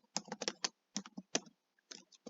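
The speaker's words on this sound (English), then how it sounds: "so I'm going to type in William" A name is typed on a computer keyboard in quick bursts of close, crisp key clicks with short pauses between them, and no voice is heard.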